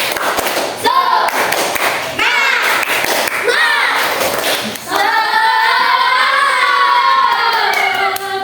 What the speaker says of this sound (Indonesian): Coba Mister akan cek dulu semangatnya. Tepuk semangat.